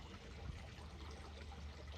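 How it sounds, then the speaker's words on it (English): Water pouring from a solar-powered garden fountain, a soft continuous splashing trickle heard close and steady with no talking. "So that's the water pouring out of it."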